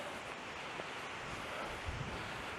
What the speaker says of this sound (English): but it's really windy.